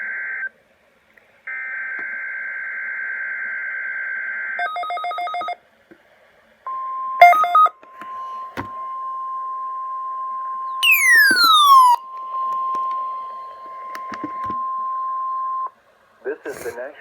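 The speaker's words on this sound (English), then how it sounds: "The preceding signal was a test of the NOAA All Hazards Radio Public Warning System." NOAA All Hazards weather radio warning system test signal from a National Weather Service office in Amarillo: loud electronic data bursts and tones, then a long steady alert tone, with speech in between.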